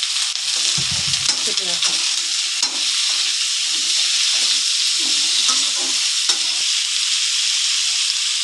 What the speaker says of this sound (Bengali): এখন আমি আলুগুলোকে লাল লাল করে ভেজে নেবো।